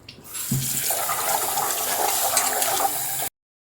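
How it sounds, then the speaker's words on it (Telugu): Water runs steadily as soaked chickpeas are rinsed in a container, a continuous splashing wash with no talking, ending abruptly. "నానబెట్టేసి శుభ్రంగా 2 సార్లు కడిగేసుకోవాలి"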